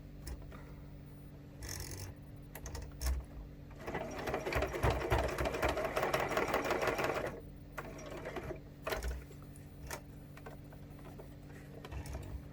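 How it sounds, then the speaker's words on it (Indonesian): A sewing machine stitches along the edge of a landscape-style fabric pouch in one steady close whirring run of several seconds, bracketed by short quieter bursts and handling noise before and after. "Oke, kalau udah, kita akan jahit semuanya. Saya jahit dari pinggir dulu."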